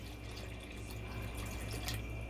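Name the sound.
water poured into a cooking pot for chicken stew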